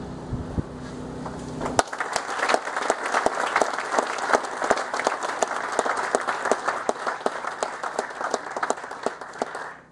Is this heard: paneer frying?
no